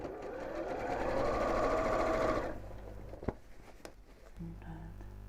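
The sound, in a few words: sewing machine stitching along fabric edge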